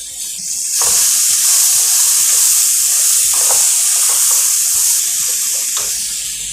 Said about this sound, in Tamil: நல்லா தண்ணி விட்டுறலாம்.